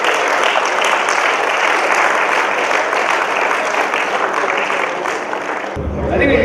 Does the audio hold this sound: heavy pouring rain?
no